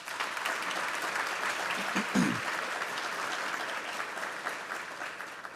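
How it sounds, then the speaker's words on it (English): An audience at a First Generation Awards celebration breaks into loud, sustained applause, a dense wash of many hands clapping together that holds steady from start to finish. "Let's give all of them a round of applause."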